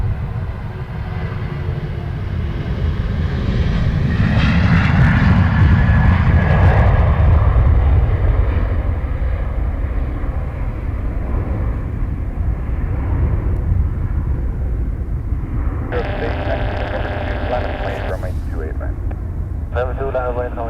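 A fixed-wing airliner taking off at Dublin Airport produces a loud, steady jet engine roar that swells and then slowly fades over about twenty seconds, with a few faint higher tones near the end.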